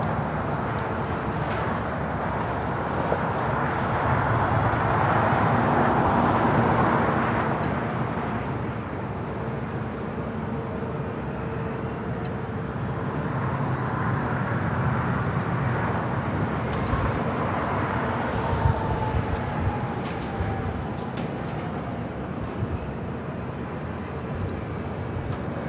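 An American Airlines Boeing 777-300ER arriving from Miami at LAX rumbles as a steady, broad jet roar that swells and fades across the approach, moderately loud and continuous with no talk.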